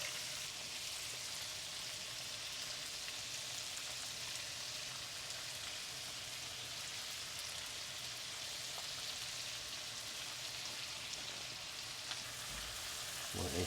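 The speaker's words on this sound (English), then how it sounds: "All right, so add the shrimp. Y'all hear that goodness?" Shrimp sizzle in a hot pan of new Caraway cookware with a steady, even crackling hiss that holds at a moderate level throughout, with no one talking.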